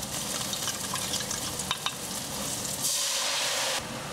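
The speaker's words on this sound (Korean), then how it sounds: "파기름을 내주세요" Scallions frying in hot oil for scallion oil, a steady close sizzle with a couple of sharp crackles, swelling briefly into a brighter, louder hiss near the end.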